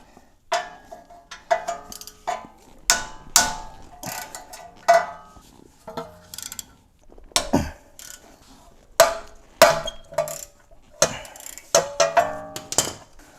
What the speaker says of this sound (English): it looks like this deep socket 14 is going to work for me. You're just going to want to loosen it